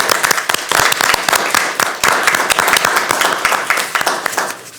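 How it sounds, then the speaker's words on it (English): Applause at a school district board of education meeting, a steady patter of many hands clapping throughout, moderately loud with a faint voice underneath. "So let's give them all a round of applause."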